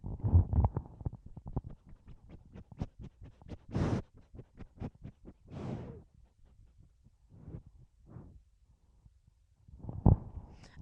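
Close, quick sniffing bursts into a microphone, with rapid snuffles and a few louder breathy puffs scattered throughout, fairly loud and near.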